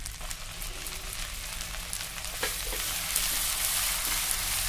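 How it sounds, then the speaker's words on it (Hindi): Onion paste goes into hot oil with ginger-garlic paste, frying as a rain-like crackling sizzle that grows denser and louder toward the end, with a few stirring clinks and no voices. "अब हम प्याज का पेस्ट बनाया है वो हम डालेंगे।"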